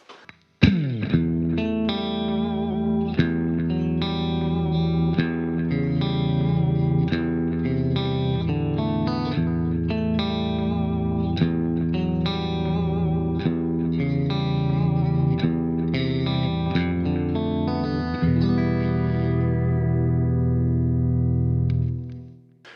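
A clean electric guitar through a Mesa Boogie Triaxis preamp with an MXR compressor plays chords and melodic lines at a steady moderate volume, ringing out and fading at the end.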